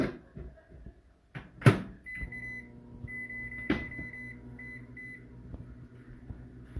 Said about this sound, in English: I'm going to pop this in the microwave for about 5 minutes.